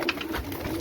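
Pigeons in a loft cooing steadily at close range, a dense low burble with some faint background rustle and no voices.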